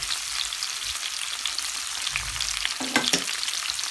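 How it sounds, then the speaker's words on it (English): Sea bass fillets frying in a pan crackle and sizzle continuously at close range, with a few louder spatters toward the end and no voices. "I can fry about 5 minutes"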